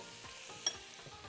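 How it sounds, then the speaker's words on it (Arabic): Dry ingredients of flour, sugar, baking powder and salt are stirred together in a bowl, giving a brief, soft scraping swish with a faint clink. "ونقلب. دي المواد الجافة مع بعض."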